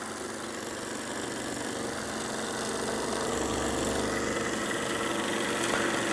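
Weeden 661 model steam engine running, giving a quiet continuous mechanical whir and rapid chuffing rhythm with faint vibration, steady throughout with no talk.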